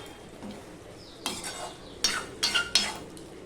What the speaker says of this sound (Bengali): সম্পূর্ণটা মিশিয়ে নিলাম